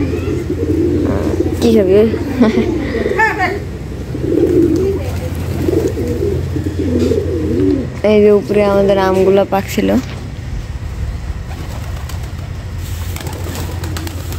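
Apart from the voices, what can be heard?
pigeons cooing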